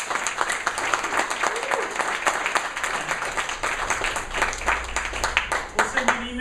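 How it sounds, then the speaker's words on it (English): A panel-discussion audience applauding its panelists, dense rapid clapping from a room full of people that runs steadily for several seconds, with a voice speaking over it. "Let's give a round of applause for our panelists."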